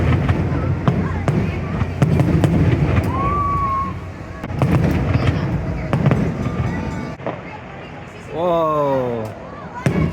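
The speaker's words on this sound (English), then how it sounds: "Can't wait for these fireworks to get started." Nighttime fireworks burst over Disney World near the Epcot ball, seen from the Swan and Dolphin resort area: a run of sharp, booming bangs and crackles, some distant and echoing, while people chatter nearby.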